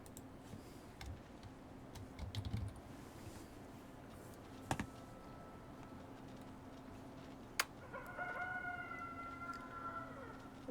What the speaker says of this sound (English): Rooster noises!